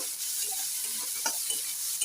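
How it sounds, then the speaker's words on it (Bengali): Chopped onion and garlic fry in a pan for a masala macaroni dish, giving a steady soft sizzle with a few light stirring scrapes near the end, close and alone without talk. "পেঁয়াজ রসুনটা একটু ভাজা হোক,"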